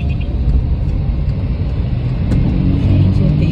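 A car's engine rumbles steadily and builds slightly toward the end as it gains speed and a learner driver shifts into third gear on a rainy road. The sound is close and continuous, with no talking.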